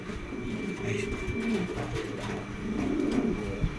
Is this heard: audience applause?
no